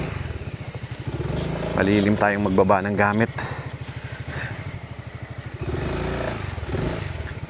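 Motorcycle engine idling with a steady low throb at a beach campsite at Unisan Sands, Quezon, close by and mostly under people talking, with a brief louder burst partway through.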